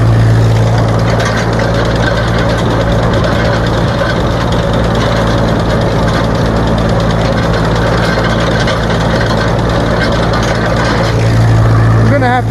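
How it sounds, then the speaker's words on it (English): A farm tractor drives a hay tedder in a field, its engine droning loudly and steadily with a low rumble and the tedder's mechanical clatter running continuously underneath. "I've never had a tractor run the tedder this fast."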